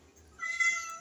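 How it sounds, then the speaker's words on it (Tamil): Hungry kittens give a single short, fairly faint meow that rises and fades within about a second. "அவங்களுக்கு பசி வந்துச்சு, வாயின் கத்துது."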